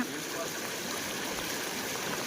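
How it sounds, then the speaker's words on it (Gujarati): Floodwater rushes through a broken field embankment during heavy monsoon rain in a Gujarat village, a dense, steady roar of flowing water close by. "અહીં પારો તૂટ્યો છે"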